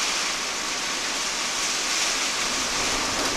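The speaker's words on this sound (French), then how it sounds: "Et par contre, il pleut de plus belle." Heavy storm rain drums on the roof of a camper van, a dense, continuous hiss that stays loud and even throughout, with no voices.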